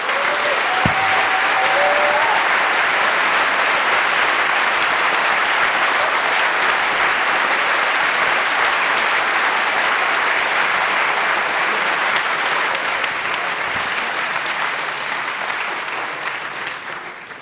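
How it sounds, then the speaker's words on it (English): Sustained, dense applause from a large seminar audience fills the room at steady loudness for the whole stretch, tapering slightly at the very end, with a brief faint whistle-like tone near the start. "they deserve a big round of applause"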